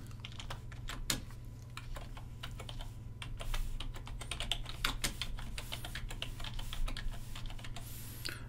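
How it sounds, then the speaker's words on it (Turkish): Rapid typing on a computer keyboard, a dense irregular patter of close key clicks running steadily for several seconds over a low constant hum, with no speech. "ben bunu e, şöyle sizin eee sohbet pencerenize yazayım"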